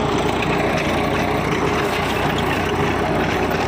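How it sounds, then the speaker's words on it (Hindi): A Swaraj 744 XT tractor engine pulls a Sonalika rotavator deep through rough farm soil, its loud, steady diesel drone running continuously throughout without a break. "हमारे पिताजी ट्रैक्टर चला रहे हैं"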